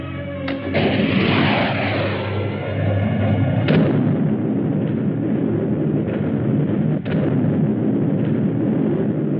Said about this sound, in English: Start the bombardment.